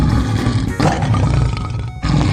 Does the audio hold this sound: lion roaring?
yes